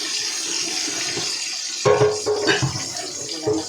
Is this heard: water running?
yes